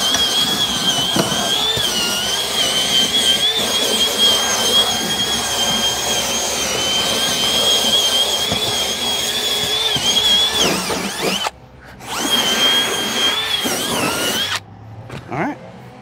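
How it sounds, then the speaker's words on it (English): Compressed air blowing and a vacuum run steadily through a car interior during detailing, giving a loud, continuous whine and rush that cuts out briefly near the end. "And then we'll start all the blowing out and the vacuuming"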